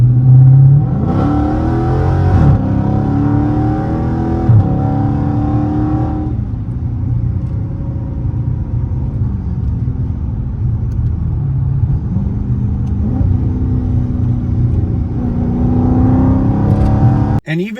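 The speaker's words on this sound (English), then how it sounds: "the noise that they created in that EV when I was driving around" Synthetic exhaust sound from a 2025 Dodge Charger Scat Pack EV while driving, a loud artificial engine drone that swells and rises in pitch like revving, then settles into a steady rumble, with no talk over it.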